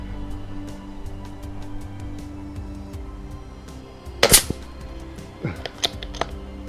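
A BSA R10 toy cap gun fires one loud, sharp crack after several seconds of quiet, followed by a few fainter clicks and knocks.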